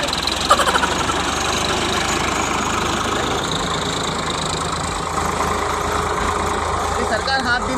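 A tractor engine chugs steadily as it drives over a standing crop in a field, a continuous mid-pitched rumble close by, with people talking over it.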